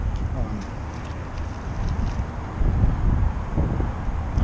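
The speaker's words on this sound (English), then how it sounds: "It's a little windy right now." Outdoor wind buffeting the microphone as a steady rumbling roar that grows stronger midway, with a voice talking over it.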